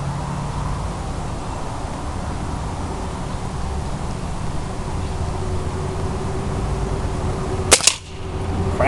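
A single sharp crack from a Benjamin Prowler .22 break-barrel air rifle fired at a milk jug, quickly followed by a second snap, standing out briefly over steady outdoor background noise.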